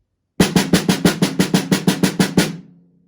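A snare drum plays a passage with the accents removed, a steady run of about fourteen even strokes at a brisk, uniform volume, with no standout hits, then rings briefly and fades.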